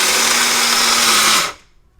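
A blender whirs loudly and steadily, grinding peanuts coarsely for over a second before shutting off and winding down abruptly.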